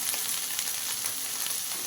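Okra tipped all at once into a pan of frying onions produces a dense, steady oil sizzle that stays loud and even throughout, with no voices.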